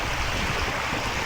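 A strong river current rushes past, close and loud: a dense, unbroken roar of moving water with a little wind noise mixed in.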